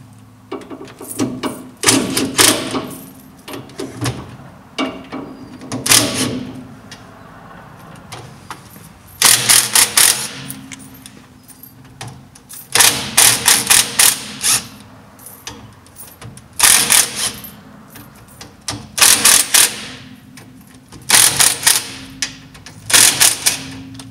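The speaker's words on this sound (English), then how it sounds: "We use a 1/2 inch socket on my impact. I'm going to start from the bottom and work my way up." An impact wrench with a half-inch socket loosens the differential cover bolts on a Dodge Ram 1500, loud rattling bursts of hammering repeated about a dozen times with quieter pauses between.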